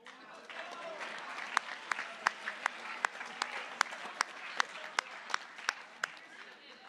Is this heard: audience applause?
yes